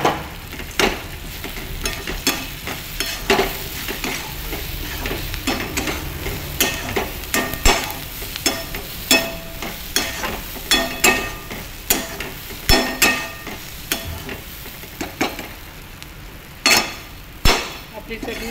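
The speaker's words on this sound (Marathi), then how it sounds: "यालाही आपल्याला चांगलं परतून घ्यायचं" Onion chutney masala with crushed peanuts sautéed in a pan, with irregular scraping and clinking spatula strokes against the metal over a faint sizzle, close and fairly loud, with no talking.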